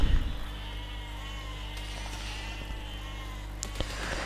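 Sheep in the physics building game Besiege bleat over a steady droning background, with a brief thump at the start and a few sharp clicks near the end.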